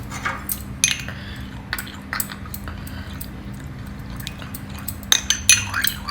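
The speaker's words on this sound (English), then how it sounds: "To this we'll just add a little bit of water and make it into a paste." Corn flour being mixed with water into a paste: soft liquid stirring with light clinks of a spoon against a small bowl, quiet and close, with a steady low hum underneath.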